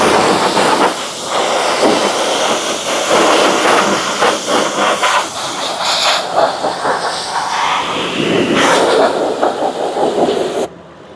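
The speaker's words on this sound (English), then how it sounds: "we're going to be rinsing this engine bay really quick" A strong, hissing water spray rinses a car engine bay up close, steady and loud with surging bursts and splattering as the stream moves, then cuts off at the end.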